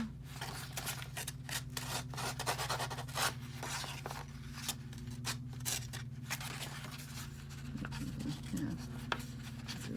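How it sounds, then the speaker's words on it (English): Steady scratchy rubbing and snipping of scissors against paper edges, continuous and close, over a low electrical hum with faint speech late on. "I also will take a scissors and just, you know, rough up the edges a little more"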